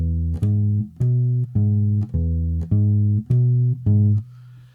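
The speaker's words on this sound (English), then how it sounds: "it's a shuffle where we quarter note walk the bass using the root, third, fifth" Electric bass playing a walking blues shuffle in E on root, third and fifth, seven even sustained quarter notes in a steady pulse, clean and close with no voice.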